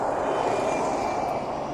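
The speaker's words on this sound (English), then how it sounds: "That's the helicopter just buzzing by." A steady, droning helicopter rotor and engine hum passing overhead near an airport, fairly loud and continuous with no voices.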